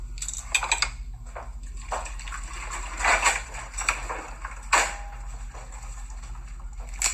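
Water poured into a container in short splashing, trickling bursts while making breakfast, with clinks of dishes and a steady low hum in the background.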